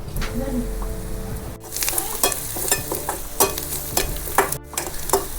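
Chili and salt go into wild greens sautéing in a pan, giving a continuous sizzle with repeated spoon scrapes and clinks over a faint background tone.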